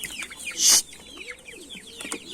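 Several chickens cluck and chatter close by in quick, overlapping calls, with a brief louder squawk partway through.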